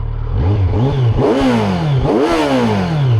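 A 2025 Kawasaki Z900 motorcycle with stock exhaust revs up close, rising and falling in pitch twice through a throaty exhaust with a rough idle between.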